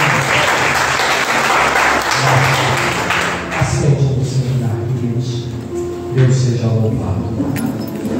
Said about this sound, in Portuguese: Então eu quero convidar você a aplaudir ao Senhor.